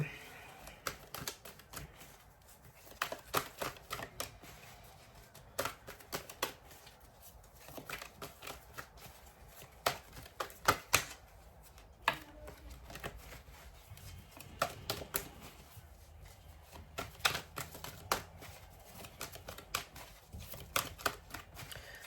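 Playing cards are shuffled over and over, a run of crisp riffling snaps and flutters in irregular bursts, close and moderately quiet, with brief pauses between passes.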